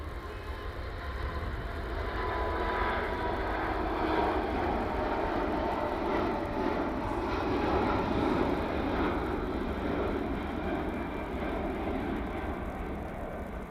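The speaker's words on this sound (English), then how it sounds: "We get an awesome look at this takeoff now." An airliner takes off at Manchester Airport, its engines a sustained broad roar that holds loud and steady throughout, rumbling from a moderate distance with no voices over it.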